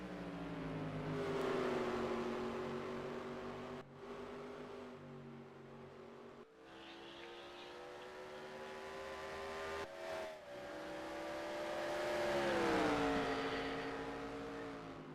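Stock race car engines at full throttle on a short oval in NASCAR Racing 2003, a loud sustained roar rising and falling in pitch as cars pass, with no talk.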